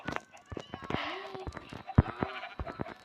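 Sheep bleating in Minecraft on a farm with fenced animals, several short bleats scattered amid game sounds, with players talking over them.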